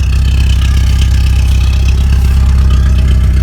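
A 1987 Porsche 944 engine idles steadily with a deep, loud muffler rumble and a fast rhythmic pulsing, close by and continuous throughout.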